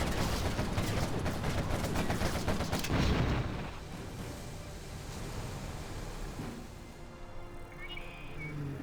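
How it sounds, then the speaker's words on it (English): Gunfire from a small fake gun on a sneak attack unit in C&C Generals Zero Hour, a dense burst of rapid shots for about three seconds, then quieter battle noise and ambience continuing. "It fires this little gun, this little fake gun."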